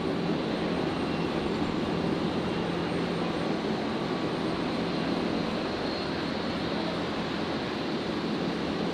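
Royal Flying Doctor Service aircraft touching down on runway 01 left at Brisbane, a steady wash of engine roar at constant loudness, moderately distant and unbroken.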